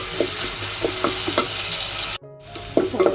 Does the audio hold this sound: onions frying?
yes